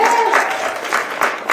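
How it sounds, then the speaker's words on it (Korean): Audience applause greets the director at a Korean TV drama press launch, a dense steady clatter of many hands with a brief tonal voice at the start. "이제 끝으로 김진우 감독님을 박수로 모시겠습니다"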